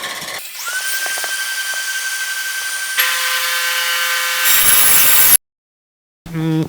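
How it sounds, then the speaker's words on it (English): A bandsaw cuts through burl wood for a box blank, its whine steady and close, rising louder midway, then cutting off into silence before a brief restart. "let's get to the bandsaw here, and we'll cut this so I can make a box blank out of that"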